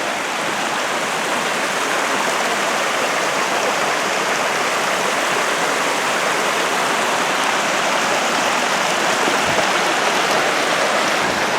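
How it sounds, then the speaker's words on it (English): Issaquah Creek flows along a forest trail on Tiger Mountain, a steady, close, full rushing of water that holds constant throughout with no voices. "This is Issaquah Creek."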